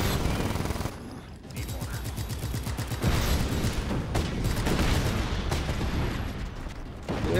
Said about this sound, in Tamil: இதெல்லாம் என்ன வச்சிருக்காங்க, பயங்கரமா வெடிக்குதண்ணா.